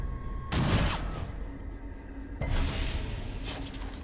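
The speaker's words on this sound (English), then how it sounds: "Now they're going to get a couple shots on me." Enemy gunfire in the video game Darkest Dungeon: two loud, crackling shot bursts a couple of seconds apart over a steady low ambient drone, with a smaller third burst.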